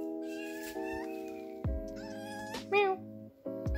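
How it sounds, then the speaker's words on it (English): A pet cat in a rental student house in the Malaysian jungle lets out a few close, drawn-out meows with a rising, wavering pitch, and people talk in between. "It's my cat."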